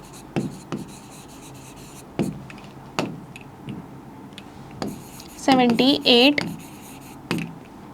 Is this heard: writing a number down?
yes